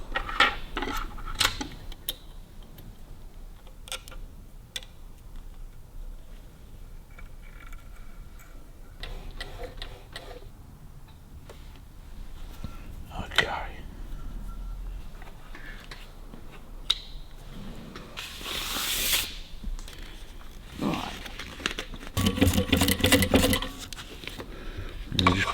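A sewing machine stitches windlace for a 1954 Ford Mercury Monterey Sun Valley in short, rapid bursts of clattering stitches, separated by quieter stretches of ticking and handling noise and some voices.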